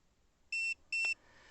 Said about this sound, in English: we press the left button up here until you hear beep